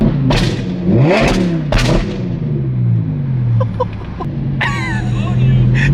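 Audi R8 with a very loud flame-tune exhaust, revved in several sharp bursts with crackling pops between them, close and aggressive, while people chatter in the background.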